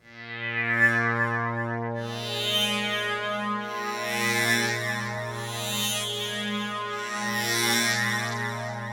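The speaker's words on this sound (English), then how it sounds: "With feedback, when you have a shaper in the signal path, often you can create some really wild tones" Wild, distorted synth tones from a Thor synthesizer in Reason, with feedback driven through a shaper, sustain loudly throughout with a steady droning pitch, swelling in rhythmic bursts of bright, gritty overtones.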